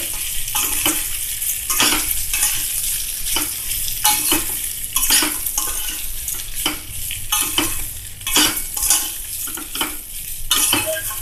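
A spatula gently stirs flattened rice pulao with vegetables in a kadai, soft scraping strokes repeating about once a second over a steady low sizzle, close and without any voices.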